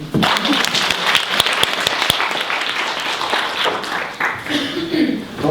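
A crowd at a talk on women's breast health in Chinese medicine applauds, with dense clapping that continues steadily for several seconds and tapers slightly toward the end.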